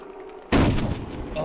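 A single loud, sharp gunshot blast from the video game The Rage, cracking out suddenly and trailing into a rumbling decay.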